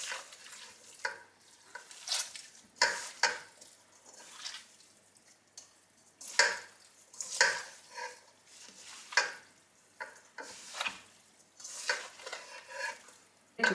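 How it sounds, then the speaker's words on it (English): Goat milk cheddar curds stirred in a pot, with soft repeated sloshing and swishing strokes at a slow, steady rhythm, close but fairly quiet. "I'm going to stir this like this about every 20 minutes"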